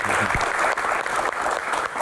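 A studio audience of students and viewers breaks into steady, dense applause at the close of a Q&A talk show, continuous and fairly close for the whole two seconds.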